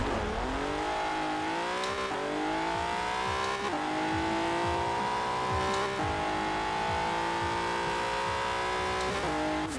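An Alfa Romeo 155 in Forza Horizon 4 tears through a drag race, its engine screaming upward through several quick gear changes, each shift marked by a sharp break before the pitch climbs again, with faint tire noise beneath.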